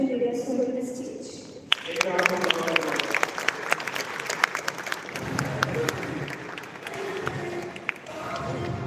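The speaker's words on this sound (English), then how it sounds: "let's give a resounding round of applause" A crowd at a college tech-talk closing ceremony claps steadily for several seconds to welcome a speaker to the stage, with scattered cheers and voices mixed in.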